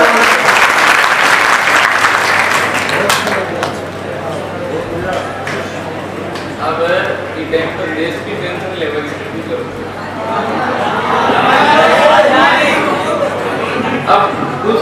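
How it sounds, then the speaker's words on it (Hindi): A crowd at a Hindi poetry gathering (kavi sammelan) gives loud, sustained applause to welcome a poet, dense clapping that eases midway and swells again toward the end, with chatter mixed in. "एक बार जोरदार तालियों का अभिनंदन करें"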